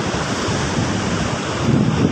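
Surf washes in steadily at Jayagiri beach in Sindangbarang, South Cianjur, heard close by with a broad rushing roar and gusts of wind buffeting the microphone, and no voices.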